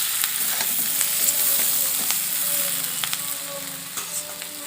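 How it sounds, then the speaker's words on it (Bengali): Potatoes fry with spices in a pan, giving a steady close sizzle with occasional stirring scrapes and crackles throughout. "মশলার সঙ্গে আলুগুলো খুব ভালোভাবে ভাজা হয়ে গেছে"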